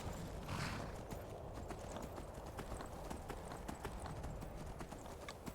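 A horse gallops in the video game Skyrim, its hooves beating a rapid, rhythmic clip-clop at low volume over a dull background rumble.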